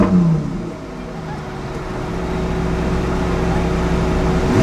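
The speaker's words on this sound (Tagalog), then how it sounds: "Ida na Ferrari." Ferrari supercar engine at a supercar car show, a loud close rumbling drone that builds steadily in volume, with people talking over it.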